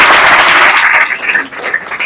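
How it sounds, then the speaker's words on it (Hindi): Audience applause for a student who wants to become an IAS officer, at a coaching class event, a dense sustained clatter of many hands that stays loud throughout, then thins slightly toward the end. "चलिए, जोरदार ताली करें इनके लिए।"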